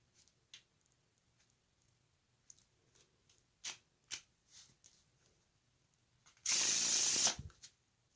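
A deck of playing cards being handled: scattered soft clicks and snaps, then a brief, loud riffling burst of a shuffle near the end, close and otherwise quiet.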